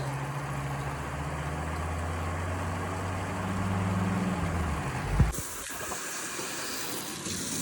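A steady mechanical hum with hiss from a water pump running continuously on a well, then a sharp clunk and a shift to a slightly different drone.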